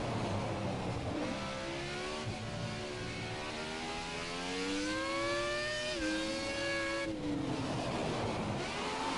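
A modern F1 car in F1 2017 accelerates hard through its gears, the high engine whine climbing, dipping briefly at each shift and climbing again, loud and close throughout with no talking.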